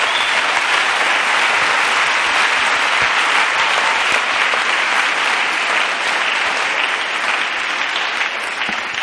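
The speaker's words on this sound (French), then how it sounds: "Acclamons pour Jésus-Christ. Let's clap for Jesus." A church congregation claps steadily for several seconds, dense sustained applause filling the room at an even level with faint voices mixed in.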